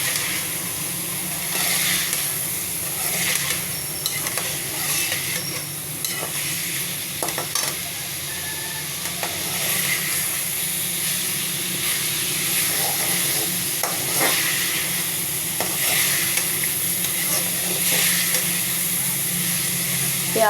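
Tomato paste and spices sizzle steadily in a pan of browned onions and chicken while being cooked down for pilau, with a continuous frying hiss and repeated stirring scrapes close by.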